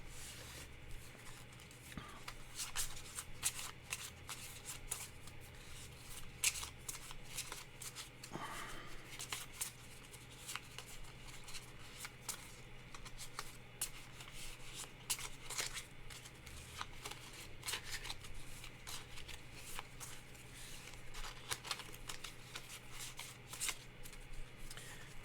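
A deck of game cards being shuffled again and again at close range, with quick riffling bursts and soft slaps at an uneven pace over a quiet room background.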